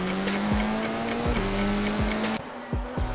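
In a racing video game, a Formula 4 car drifts at Suzuka, its tires squealing loudly over a steady high engine whine, with repeated sharp skid bursts and gear shifts, close and alone.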